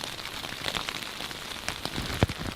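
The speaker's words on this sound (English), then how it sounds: "Started raining last night and it has not stopped." Steady rain patters on surfaces around a camp in the Alaskan wilderness, a soft, constant hiss broken by scattered louder drips and one sharp drop near the end.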